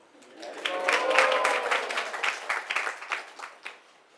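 An audience at a morning Mangal Aarti lecture in Vrindavan claps in welcome, a scattered patter of hands that swells and then thins into individual claps, with faint voices underneath.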